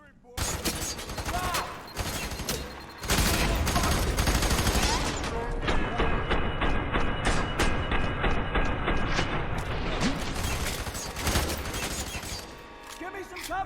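Dense, loud sustained automatic gunfire and rapid bursts in the shooter game FEAR 3, with overlapping shots and explosive cracks filling the scene, game voices calling out among the shooting.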